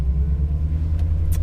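A restored and modified ICON BR #42 Ford Bronco drives on a test drive. A steady, deep engine rumble and road drone are heard close up for the whole moment, with no talking.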